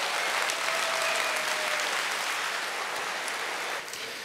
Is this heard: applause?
yes